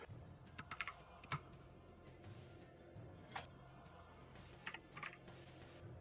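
Fingers typing on a computer keyboard during a PC game session: scattered bursts of quick, light key clicks over a low steady background hum, fairly quiet and close.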